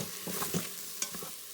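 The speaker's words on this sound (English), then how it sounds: "And we'll stir that up a touch." A spoon stirs an oil-free Ethiopian split pea stew base with garlic salt, garlic powder and black pepper in a pot, giving soft scraping and gentle sizzling over a quiet steady hiss, with no talking.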